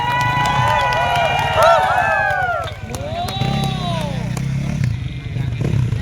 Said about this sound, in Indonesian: Tepuk tangan dulu dong buat Makassar.